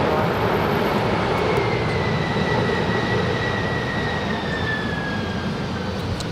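An airliner takes off from runway 25 Right at Los Angeles International Airport with a loud, sustained jet engine roar and a high whine rising above it, heard at a distance and without a break.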